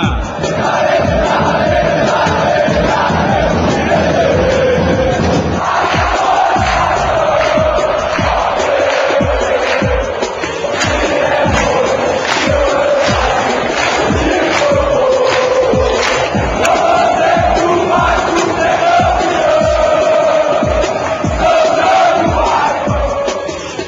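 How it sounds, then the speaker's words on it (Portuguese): Football supporters in a stadium crowd roar and chant together, a loud, continuous mass of voices with rising and falling sung phrases throughout. "É hora de ouvir a torcida"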